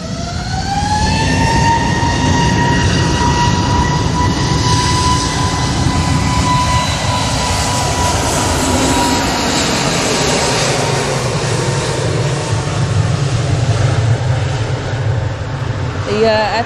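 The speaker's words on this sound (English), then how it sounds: "A350, but it's rolling now." Airbus A350 rolling for takeoff at Manchester Airport, a loud sustained jet engine roar with a rising whine, heard from a distance and continuous throughout.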